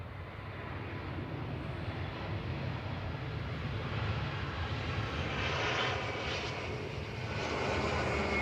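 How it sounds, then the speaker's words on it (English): A Turkish Airlines Airbus A321 arriving from Istanbul lands at Manchester Airport, its jet engines giving a steady, fairly distant roar that slowly swells and brightens toward the end, with no voices. "Turkish from Istanbul, flight 1993 TCJRZ A321 Classic."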